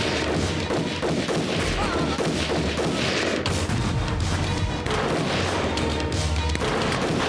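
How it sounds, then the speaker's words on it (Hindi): Battle sound effects from a Hindi film scene in which British troops attack the palace at Pratapgarh, with guns and cannon firing from both sides: a dense, continuous roar of gunfire, booms and crashes, loud throughout with no pauses. "दोनों ओर से गोला बारूद दागा जा रहा था।"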